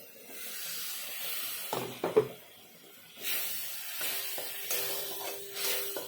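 Ground cumin and Kashmiri chilli masala frying in oil in a pan with a splash of water, giving soft intermittent hissing and sizzling bursts with a few light utensil clinks, fairly quiet and close.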